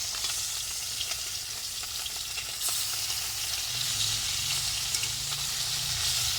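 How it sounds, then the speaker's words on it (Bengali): Small fish frying in mustard oil in a wok keep up a loud continuous sizzle, with spatula scrapes and stirring bumps as the pieces are turned over. "মাছ ভাজা ফিরিয়ে দেবো এখন"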